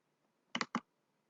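Two quick mouse clicks in close succession followed by a third, crisp and near in a quiet room as a checkbox on a web form is ticked.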